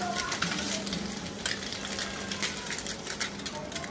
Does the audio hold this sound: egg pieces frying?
yes